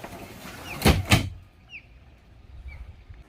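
A door on a Tiara 43 LE boat is slid and thumped shut in two quick knocks, followed by quiet background with faint chirps.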